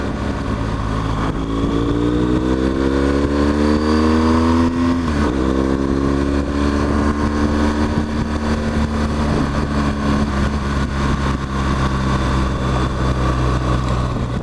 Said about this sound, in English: I fitted the aftermarket Arrow exhaust on this, and I really love that. It sounds great.